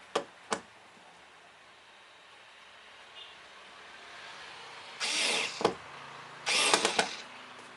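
A Mi cordless screwdriver driving a screw: two short, close whirring bursts of the motor near the end, after a couple of faint clicks and a quiet stretch.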